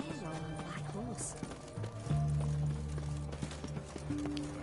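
Hoofbeats of a brown horse in a fantasy video game, a steady clip-clop gait with an occasional neigh, mixed under game music and ambient sound at moderate level.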